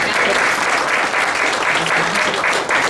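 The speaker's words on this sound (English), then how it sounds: "Let's give a round of applause." An audience applauds at a Muslims in Chicago oral history event, a dense, sustained burst of many hands clapping close by that carries on steadily from start to finish.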